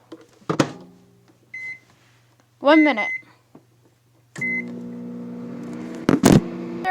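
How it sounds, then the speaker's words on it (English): A microwave oven cooking instant noodles hums in a steady low drone and gives short electronic beeps, while a person talks over it at close range. "Then we microwave."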